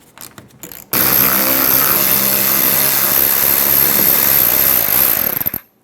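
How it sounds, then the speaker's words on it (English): A power tool fitted with a 7mm socket whines loudly and steadily for about five seconds, removing the fuel filler neck screws on a 2014-2018 Chevrolet Silverado 1500, then winds down. "Using a 7mm socket, we're going to remove the 3 screws."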